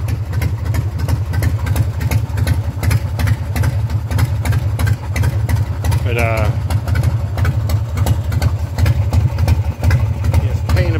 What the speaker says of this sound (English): Got her idling a little bit high.